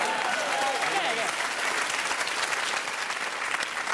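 Sustained audience applause during a cooking segment in which a Lebanese cucumber is being cut, a dense, steady clatter of many hands at even loudness for the full length.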